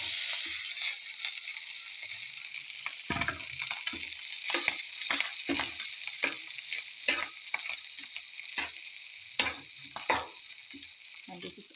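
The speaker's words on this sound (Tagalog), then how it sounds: "Now I will make fried rice." Rice frying in a pan for fried rice, a steady hiss of sizzling oil with repeated scraping and stirring strokes of a spatula, close and continuous, no voices.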